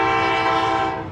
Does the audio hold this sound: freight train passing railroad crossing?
yes